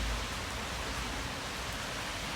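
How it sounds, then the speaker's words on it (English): Rain falls steadily on a tent, a faint, even hiss of drops on fabric that stays unchanged throughout with no other sounds. "It's raining here today, but at least it's dry in the tent."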